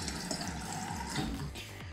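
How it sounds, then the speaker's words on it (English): Water pours into a dog's travel water bottle with the lid off, a steady close splashing fill running without a break and no talking. "fill it with water"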